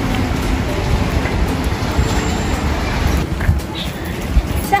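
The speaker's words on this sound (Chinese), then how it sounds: "下好大的雨。" Heavy rain pours outside a market in a continuous, dense hiss, mixed with low traffic rumble and occasional nearby knocks.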